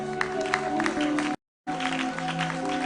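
A congregation claps together at a church healing service in Gonaïves, a steady wash of applause blended with sustained musical tones, broken by a short silent gap midway before the clapping resumes.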